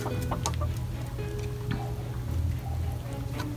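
Several chickens cluck and bawk in short bursts nearby, over a low steady background hum.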